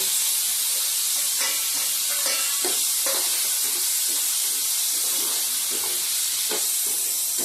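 Raw mango pieces sizzle and fry in hot oil while being stirred, a steady close hiss broken by repeated scraping stirs, with no talking.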